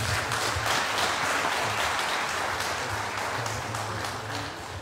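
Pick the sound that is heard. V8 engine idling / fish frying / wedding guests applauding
wedding guests applauding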